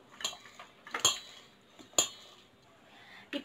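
A knife chops an onion on a cutting board in a home kitchen, giving three or four sharp, separate knocks with short pauses between them, fairly close and without talk.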